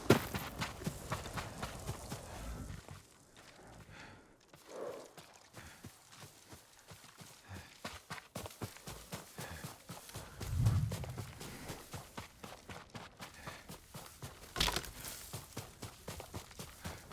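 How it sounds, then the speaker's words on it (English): Horse hooves walk at a steady, unhurried pace in the video game Ghost of Tsushima, a soft clip-clop of regular close footfalls with a few louder thumps and quiet ambience. "Yuriko's horse."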